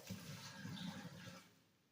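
Water is dumped out of a hydroponic water-culture pot, rushing and gurgling steadily as it drains away, loud at first and then tapering off toward the end.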